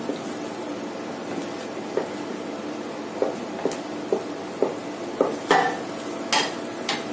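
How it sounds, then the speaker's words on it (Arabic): A utensil scrapes and taps in a pan as two eggs are stirred into Algerian grilled pepper salad, with soft rhythmic clinks over a low frying hiss. "نحرك، نزيد لها 2 بيضات، هاد 2 بيضات نمشيهم شوية هكا"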